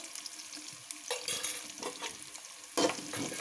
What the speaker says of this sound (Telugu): కొంచెం ఫ్రై అవ్వనివ్వాలి ఫ్రై అయిపోయాయండి